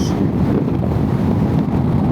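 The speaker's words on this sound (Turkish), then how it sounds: "Acayip esiyor ya. Sağdan vuruyor rüzgar." Strong wind roars steadily across the microphone of a rider on a Honda ADV 350 motorcycle, a loud, constant buffeting rumble with no voices.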